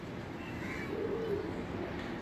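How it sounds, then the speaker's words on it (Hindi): A pet Teddy pigeon coos softly at home, a low steady murmuring close by over a constant faint background hiss. "ये हमारा टैडी कबूतर है जी"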